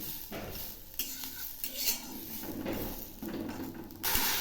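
Grated coconut and jaggery are stirred in a wok, soft close scraping and clinking of a spatula against metal over a faint low sizzle, with a few louder knocks and no talk.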